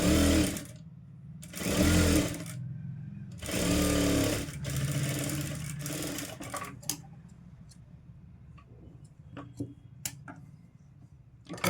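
A sewing machine stitches a folded edge on a blouse in three short bursts, then goes quiet except for scattered clicks and handling taps, close by and with no talking.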